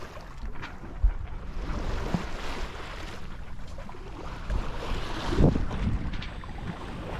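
Sailboat moving at about 3.5 to 4 knots over calm seas in an 8 to 9 knot wind, with steady hull and water wash under continuous wind buffeting on the microphone and a few soft thumps.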